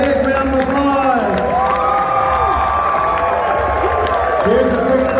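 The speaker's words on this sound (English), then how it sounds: "Let's give all those RVPs and SVPs a big round of applause" A leadership school audience cheers, whoops and applauds for recognized RVPs and SVPs, a loud, continuous crowd roar with shouts and voices mixed throughout.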